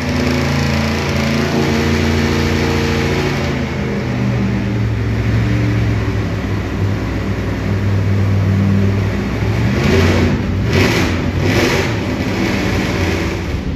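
A methanol-burning big-block Chevy engine runs loud and rough on a dyno, refusing throttle, its uneven throbbing roar sustained throughout, with a few harsher surging bursts near the end.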